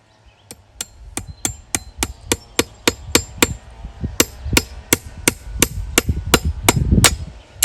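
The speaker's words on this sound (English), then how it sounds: "Now we'll put us a nail in." A hammer drives a nail into hard locust wood with about twenty sharp, evenly spaced strikes. The blows ring loud and close and grow slightly heavier toward the end.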